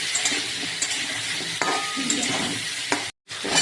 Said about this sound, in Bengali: সবজি একটু ভেজে নেবো